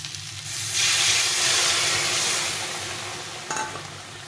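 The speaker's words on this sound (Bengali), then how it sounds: "সুন্দরভাবে ভেজে নিয়েছি এখন এখানে জল দিয়ে দেবো" Water poured into a hot pan of fried fish and spices for a Bengali fish curry hisses and steams loudly, a broad sizzling rush that peaks early, eases off, then flares briefly again near the end.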